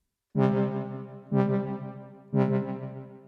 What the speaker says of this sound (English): So you start to get this delayed effect, this echo effect.